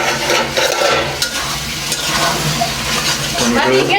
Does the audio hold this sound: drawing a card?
no